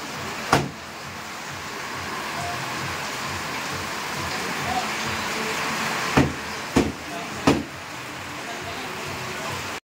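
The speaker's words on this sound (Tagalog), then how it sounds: "malakas pa rin po ang ulan" Steady dense hiss of heavy typhoon rain falling throughout at a lighthouse, with a few sharp knocks or thumps standing out near the start and toward the end.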